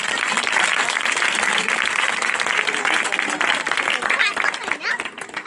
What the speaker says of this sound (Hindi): आए हाथों को लहराकर यीशु के लिए जोर से ताली बजा दें।